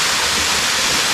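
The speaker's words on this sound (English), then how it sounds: "This is the real golden waterfall, people." A golden-colored waterfall roars as a steady, loud, broadband rush of falling water heard up close with no other sounds.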